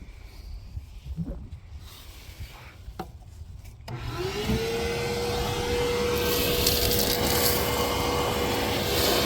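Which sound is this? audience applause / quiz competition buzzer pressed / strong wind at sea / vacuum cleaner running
vacuum cleaner running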